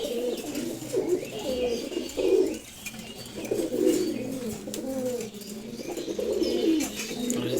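Male Giribaj tumbler pigeons cooing close by in repeated throaty rolling phrases, with occasional wing flutters and faint voices in the background.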